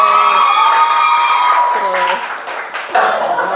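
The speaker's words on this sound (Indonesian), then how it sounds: "tepuk tangan dulu buat kelompok Haika" Classroom group applause and cheering for a student team, clapping mixed with whoops and children's shouts under loud, overlapping voices.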